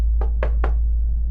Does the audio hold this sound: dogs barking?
no